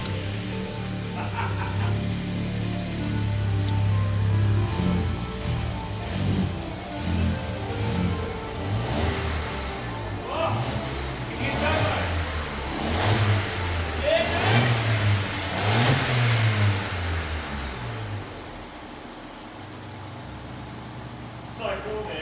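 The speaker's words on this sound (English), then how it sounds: "It's time to turn the key. Depress clutch to start." A turbo-converted VW Up! GTI engine cranks, catches and runs, with a steady engine drone and several revs rising and falling, close to the microphone and partly under voices.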